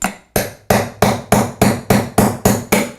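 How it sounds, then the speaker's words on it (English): A hammer strikes a punch to drive the old bearing out of a Crankbrothers bicycle pedal body set over a socket. Nine sharp metallic blows land in a steady, evenly spaced rhythm, close and loud, each with a brief ringing decay. "and then using a hammer and the punch,"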